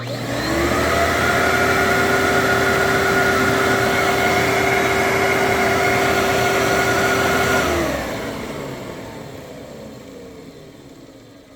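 A Kenmore Destiny Plus vacuum cleaner motor whines loud and steady with a high harmonic tone, then winds down as the pitch drops and the roar fades over the last few seconds.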